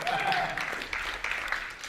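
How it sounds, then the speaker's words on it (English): Brief burst of audience applause at a speaker event, a crowd clapping in a fairly close room with scattered voices under it, easing slightly toward the end. "And we give a big applause to Sam"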